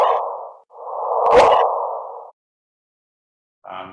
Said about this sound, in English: That is the sound of the gravitational waves.